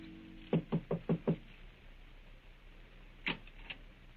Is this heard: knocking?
yes